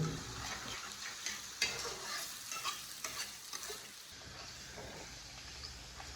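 Chopped garlic and chili fry in a pan, a soft steady sizzle with frequent stirring scrapes, fairly faint and close, with no talk over it.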